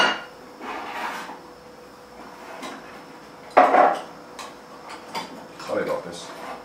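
Kitchen rummaging for a small steel jug while making chicken soup, with scattered clatters of metal and dishes, one louder bang near the middle, and a voice talking intermittently over the noise.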